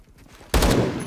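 A single loud gunshot from the game Roblox Phantom Forces, fired from an AK12BR rifle, bursts sharply after a brief quiet moment and rings out briefly.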